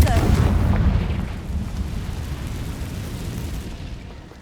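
Confringo blasting spell explosion in the Hogwarts Legacy video game, a single loud booming blast that rolls and fades over a few seconds.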